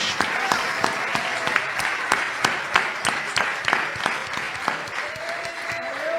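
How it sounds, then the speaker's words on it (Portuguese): A church congregation applauds during an evening service, with distinct rhythmic claps standing out over a steady wash of clapping, and a voice briefly heard near the end. "Você pode aplaudir ao Senhor esta noite."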